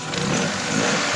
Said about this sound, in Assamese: গাড়ী এতিয়া অলৰেডি ষ্টাৰ্টতে আছে, আপোনালোকে চাই লওক। চাউণ্ড পূৰা ধুনীয়া হৈ আছে,